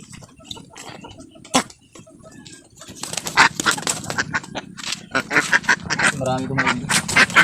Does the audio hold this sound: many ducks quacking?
yes